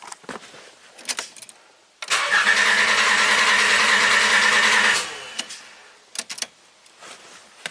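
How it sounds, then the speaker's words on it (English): A car engine cranking on power from a jump starter: one loud, even, rapid churning crank of about three seconds, with scattered clicks and small knocks before and after. "So you have to turn the key off after every crank."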